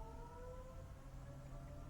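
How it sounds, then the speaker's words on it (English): A distant tornado siren holds a steady, droning wail through the whole stretch, faint beneath a low rumble, with no voices. "Tornado siren's going off."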